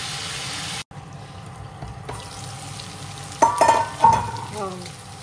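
Buffalo dry meat (sukuti) frying in a pan gives a constant sizzle, then louder bursts of scraping and clattering as it is stirred toward the end.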